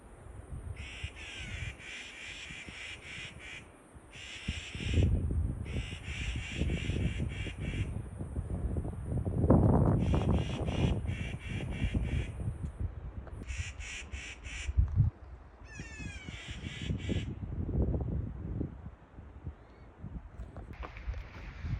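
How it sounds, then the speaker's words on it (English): Crows caw repeatedly in bursts of harsh calls, some overlapping, over a steady rumble of wind or background noise outdoors. "Listen to these birds."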